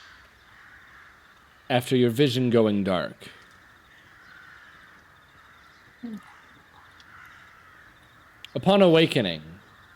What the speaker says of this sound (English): Jeez, those crows are really noisy.